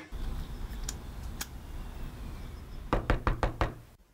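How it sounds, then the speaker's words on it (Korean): Knocking on the front door of an unanswered house by a utility meter reader, a few scattered raps followed by a quick burst of five sharp, close knocks, then silence. "대답 없는 집 앞에서 한참 문을 두드립니다."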